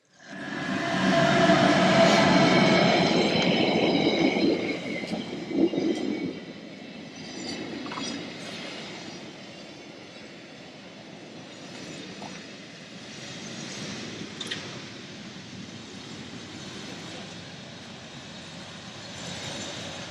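A train on the line to St. Moritz near Bergün rumbles past loudly for the first few seconds, then fades into a softer, steady rolling hum and distant rail noise.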